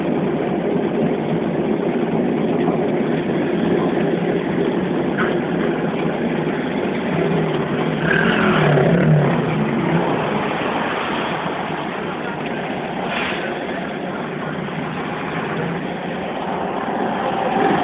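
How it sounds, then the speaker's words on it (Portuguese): Stopped city buses jam an exclusive bus corridor under a viaduct, their engines idling in a steady loud low rumble with a broad traffic roar and faint voices nearby. "Os ônibus estacionados aqui no corredor exclusivo deles, o trânsito não anda mais."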